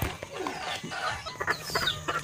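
A golden buck chicken clucks and squawks near and loud while being fed, several short calls in quick succession over low background noise.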